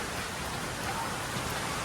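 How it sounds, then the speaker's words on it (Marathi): Steady rain hisses evenly throughout in a village, a dense broadband wash of falling drops with no voices. "मी इकडं चाललो आहे आणि त्या पाऊस आलाय"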